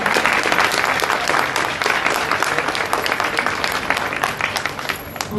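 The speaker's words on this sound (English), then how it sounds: "let's give him a big clap" Steady crowd applause at a gathering at a Hindu temple in Basin, Melbourne, welcoming a state MP, dense clapping held throughout at full level before easing slightly near the end.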